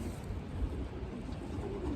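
A young banded racing pigeon with slate coloring coos low and faintly in a loft, nearly buried under a steady wash of background noise.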